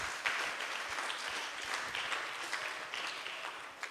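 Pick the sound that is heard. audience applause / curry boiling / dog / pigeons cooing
audience applause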